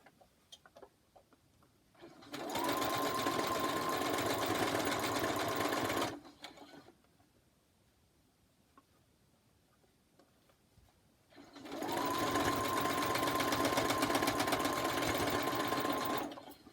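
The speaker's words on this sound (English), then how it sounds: "So I'm going to pick this up, match it up, and run it through and sew it." Two sustained bursts of a sewing machine stitching quilt blocks, each a steady fast whirring hum lasting several seconds, close and loud, separated by a quiet pause with faint handling sounds.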